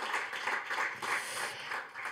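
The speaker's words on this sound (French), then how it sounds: "On peut les applaudir" A small audience at a water-sharing conference gives a short, faint round of applause, soft overlapping hand claps that swell in a few gentle pulses.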